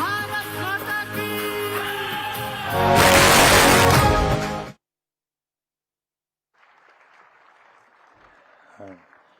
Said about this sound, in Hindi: आपकी जोरदार तालियां इस बात की द्योतक हैं कि आप बराबर इस कार्यक्रम से जुड़े हैं